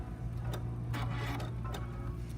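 A close sewing machine hums steadily while it stitches along a seam line, with a constant mechanical drone and light ticking clicks throughout the short burst.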